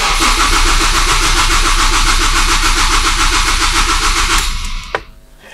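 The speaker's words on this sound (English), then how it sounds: "So let's crank it over and we should see a stable RPM when cranking." A car engine on aftermarket engine management is cranked by the starter, a fast, even chugging rhythm that runs loud for several seconds, then cuts off abruptly with a short clunk and fades to quiet.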